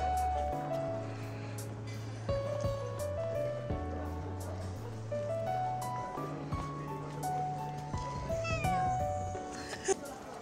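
A cat meows repeatedly inside the Libreria Acqua Alta bookshop in Venice, its calls close and clear over layered background music and faint voices.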